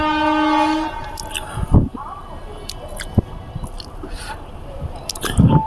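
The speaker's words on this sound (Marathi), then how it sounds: "मित्रांनो, ट्रेन आलेली आहे" A freight train passes a railway station crossing gate, its horn sounding loud at the start, then rattling and clanking wagons with sharp metallic knocks continue up close.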